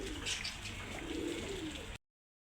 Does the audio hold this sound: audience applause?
no